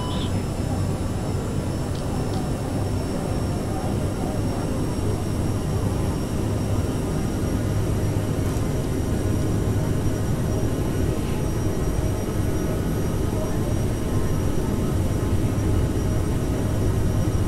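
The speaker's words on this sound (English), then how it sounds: "taking off from runway 26." A CRJ700 regional jet in Microsoft Flight Simulator 2020 takes off from runway 26 at Jersey, giving a steady, loud broadband roar with a low engine drone that holds throughout with no break.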